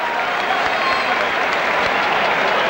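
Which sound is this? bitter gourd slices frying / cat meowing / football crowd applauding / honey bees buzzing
football crowd applauding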